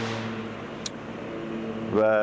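A pickup truck towing 14,000 pounds descends a 7% grade in tow mode with full Jake brake engaged, a steady humming engine drone that swells into a louder, harsher tone near the end, with a voice talking over it.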